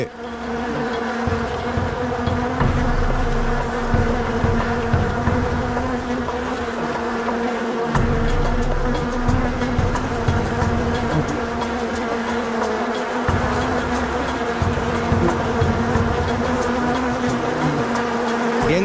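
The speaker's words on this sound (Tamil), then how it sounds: "எங்களை தேனீக்கள் சூழ்ந்துடுச்சு. எங்களை சுத்தி தேனீக்களை பார்க்க முடியுது." Dense buzzing of many bees swarming in a Bengal forest fills the air steadily and close by, a constant droning hum with no voices.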